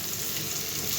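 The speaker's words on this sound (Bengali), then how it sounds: "তো এবার আমি এর মধ্যে এই মশলা, এই সবজিগুলো ভেজে নিই।" Red capsicum, tomato, onion and green chilli fry in a pan, a continuous, even sizzle without pauses and no voices.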